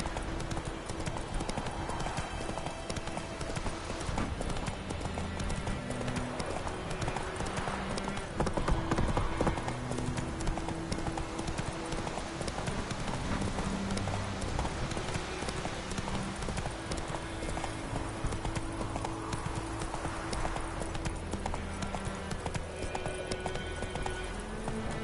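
Roach the horse gallops in The Witcher 3, steady rapid clip-clop hoofbeats running continuously at moderate level with a faint whinny and occasional game sounds beneath.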